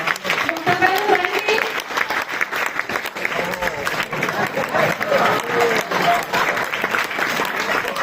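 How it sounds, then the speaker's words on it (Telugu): An audience claps steadily to welcome the doctor character onstage at a children's Christmas skit, a dense, sustained round of applause with some voices mixed in throughout. "దయచేసి డాక్టర్ గారికి కొంచెం చప్పట్లు కొట్టి ఆహ్వానించామండి"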